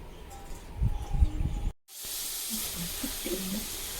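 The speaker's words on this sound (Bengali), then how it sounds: "আলুটা প্রায় ভাজা হয়ে এসছে" Potatoes fry in oil in a wok as a steady, moderately loud hiss that begins after a brief silent break, with someone talking before the gap.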